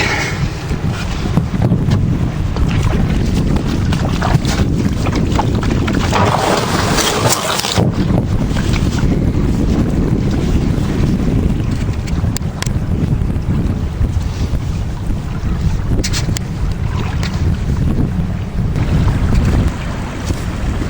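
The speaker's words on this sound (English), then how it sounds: "there's bound to be a little bit of wind noise here" Constant loud wind buffeting against a microphone outdoors by a 12 ft open canoe, a dense low rumble with roaring gusts throughout and no voices.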